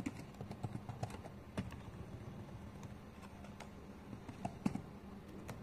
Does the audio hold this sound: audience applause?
no